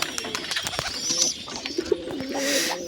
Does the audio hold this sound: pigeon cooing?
yes